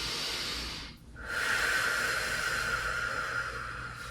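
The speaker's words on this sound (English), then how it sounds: "starting to take some nice deep breaths" Deep, steady breathing during a block mat Pilates exercise in a small space: one airy exhale, a brief pause, then a long, even breath, close and alone.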